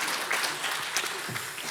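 A church congregation applauds to welcome a visitor during a Korean Presbyterian Sunday service, a short, moderately loud patter of clapping from many hands in the room.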